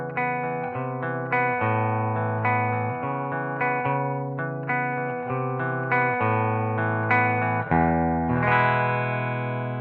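An Epiphone 1958 Korina Flying V electric guitar played through its bridge pickup, with distorted chords and riffs ringing close and loud in a steady rhythmic pattern, ending on a sustained chord.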